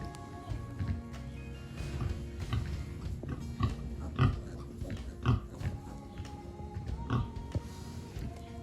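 A nursing sow grunts in a steady run of low, rhythmic snorts at feeding time with her newborn piglets, close and moderately loud over a continuous straw-bedded barn background, with some sharper peaks and squeals toward the middle.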